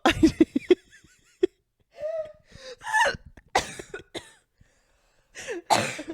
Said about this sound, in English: Did you make me cough?